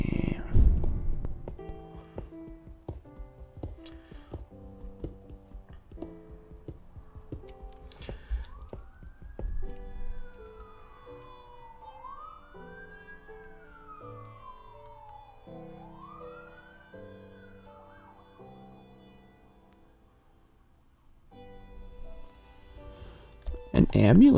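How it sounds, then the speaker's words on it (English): A wailing ambulance siren rises and falls several times as it passes at a moderate distance, while soft tones play underneath and a voice speaks briefly. "An ambulance just went by my house."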